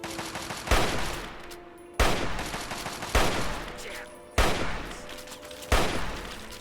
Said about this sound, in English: Keep firing, Jericho, keep firing